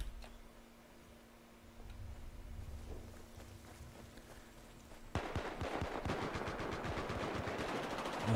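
Gunfire from Battlefield 4 in a Conquest match: a quiet stretch of distant rumbling and scattered shots, then a sustained rapid burst of automatic fire that stays loud and close to the end.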